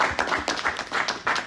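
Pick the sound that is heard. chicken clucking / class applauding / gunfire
class applauding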